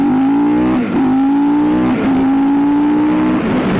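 A Fantic Caballero Rally motorcycle engine drones steadily while riding around town, rising in pitch through the gears with brief dips at each shift, loud and close throughout.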